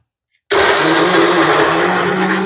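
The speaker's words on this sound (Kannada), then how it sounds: "ನೆಕ್ಸ್ಟ್ ಈಗ ಗ್ರೈಂಡ್ ಮಾಡ್ಕೊಂತ ಇದೀರಿ" A mixer grinder starts abruptly after a moment of silence and runs loud and steady, grinding bread pudding ingredients, a close, continuous high whine with no voices.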